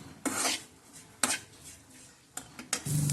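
A potato and spice mixture being stirred in a bowl, with three or four distinct scraping clinks of a spoon against the dish, separated by quiet pauses, close and fairly soft.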